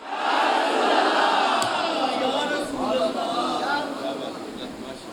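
A large gathering at a religious sermon chants back in unison in answer to a devotional slogan, a loud, sustained roar of massed voices. The chant swells early and gradually ebbs toward the end.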